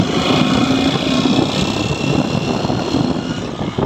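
A Honda Shine motorcycle engine with a knocking fault revs up close by, giving a loud, steady droning hum with a faint rattling edge underneath.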